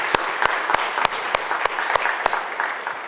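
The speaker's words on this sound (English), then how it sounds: "let's give them a round of thanks and applause." An audience claps steadily at a college summit on transforming learning, the dense applause filling the room with a few sharper individual claps standing out; no one speaks.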